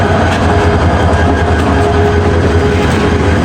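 A train engine at Ibrahimabad railway junction, a loud, near, continuous rumble with rail clatter that holds steady throughout.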